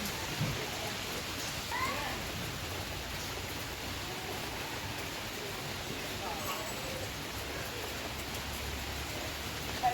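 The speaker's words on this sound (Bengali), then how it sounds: "চলো কীরকম এখানে বৃষ্টি হচ্ছে সকাল থেকে দেখ" Continuous rain falling, a soft, even hiss of drops spread across the whole stretch with no letup.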